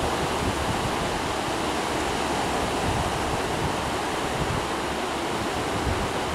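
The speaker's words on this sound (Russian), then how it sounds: "Прислушиваемся к шуму моря." Steady, broadband roar of sea surf rolling onto the sand at Majori beach in Jurmala, a continuous close wash of waves with no pauses and no voices.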